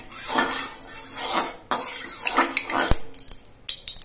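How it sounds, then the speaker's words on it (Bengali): A metal spatula scraping around a wok to spread hot oil, giving rhythmic metallic scrapes in two bursts followed by a few sharp clinks. "কড়াইয়ের তেলটা একটু গরম হয়ে যাওয়ার পর খুন্তি দিয়ে কড়াইয়ের চারপাশে লাগিয়ে"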